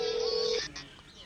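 A telephone rings on an unanswered call: a steady electronic tone sounds for about half a second, then cuts off into quiet room noise.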